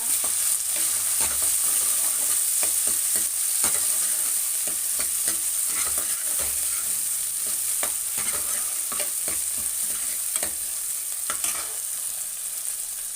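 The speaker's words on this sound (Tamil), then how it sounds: "ஒரே ஒரு சின்ன தக்காளி வந்து போட்டுக்கிறேன். நல்லா வதக்கிக்குங்க." A small tomato sautéing in a pan with oil for a dried fish curry gives a continuous close hiss and sizzle, with regular light scrapes of a spatula stirring through it.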